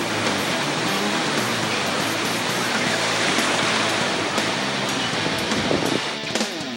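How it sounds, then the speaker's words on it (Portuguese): Big ocean waves roar in a dense, loud, continuous wash of surf with no voices, steady throughout with slight swells near the end. "o Dr. Ben Schmidt encara altas ondas."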